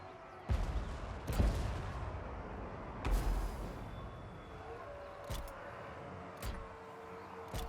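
Cannons firing in a Total War: Warhammer multiplayer battle, several sharp booming shots at irregular intervals over a rumbling battlefield backdrop, moderately loud.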